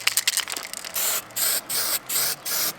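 An aerosol spray paint can spraying a car to keep it from rusting, heard as several loud, steady hissing bursts in a row, each about a third of a second long, after some rattling handling noise.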